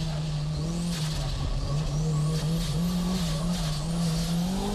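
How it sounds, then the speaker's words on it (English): Turbocharged Nissan S15 and Honda S2000 race cars at Fuji circuit, a steady loud engine drone with rising revs and tire squeal as the two cars race close together, continuous throughout with no talking. "Arito's S15 has no problems catching up to Tsuchiya."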